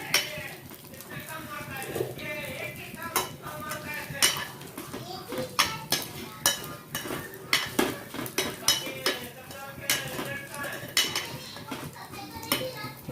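Vermicelli roasting in ghee in a pan, stirred with repeated metallic scrapes and clinks in an uneven rhythm, close and fairly loud, with some talking underneath.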